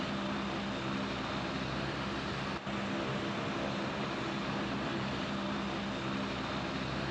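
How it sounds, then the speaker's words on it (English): Blue Angels C-130 Fat Albert flyover in the Roblox video game: a steady, loud propeller aircraft drone holds throughout, with one brief dip partway through. "the Blue Angel C-130, Fat Albert"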